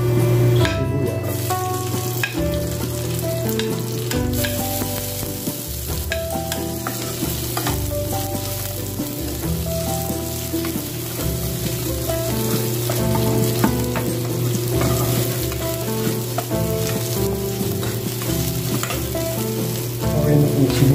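Onions fry in a pan for pork Bicol Express with a loud, dense, unbroken sizzle heard up close, while stirring goes on steadily beneath it and a low hum runs through, with no speech.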